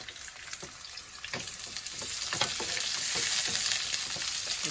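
Carrots and pickles stir-fry in a hot pan with garlic, giving a steady sizzle broken by repeated scraping and clacking strokes of a utensil, close and fairly loud, with no talking.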